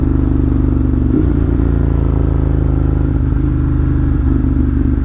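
A motorcycle's engine idles close by in a loud, steady, throbbing rumble, with a brief clatter near the start and nobody speaking.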